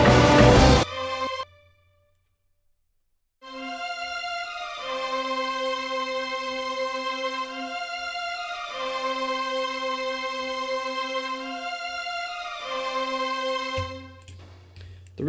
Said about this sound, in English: that is the sound of the low strings coming in.